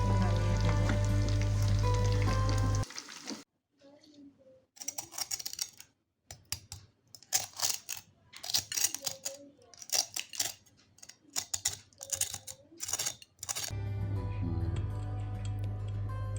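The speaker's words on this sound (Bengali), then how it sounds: "চিকেনটা কতটা ক্রিস্পি হয়েছে সেটা আপনারা এখানে সাউন্ড শুনলেই বুঝতে পারবেন।" Crispy whole fried chicken crunches as it is torn and bitten, a burst of sharp irregular crackles and snaps, close and fairly quiet, set between stretches of louder steady background noise.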